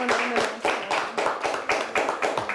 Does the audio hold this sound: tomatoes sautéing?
no